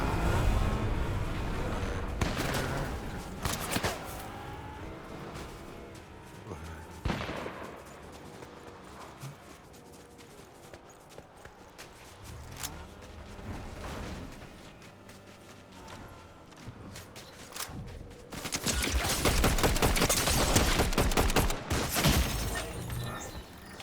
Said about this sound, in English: Oh yeah, that damn sniper rifle, eh?